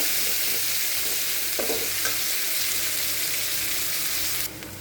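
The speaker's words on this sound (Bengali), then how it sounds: "আর হলো পেঁয়াজ। এটাকে আমি এখন একটু হালকা করে ভেজে নেব।" Sliced onions fry lightly in a pan of oil for a prawn-masala ash gourd leaf fritter dish, giving a steady, loud sizzle broken by a few short stirring scrapes.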